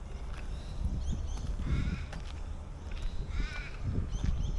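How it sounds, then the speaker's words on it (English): Crows caw in an outdoor reserve, a few harsh calls repeating at intervals over a rumbling, busy background. "a couple of crows"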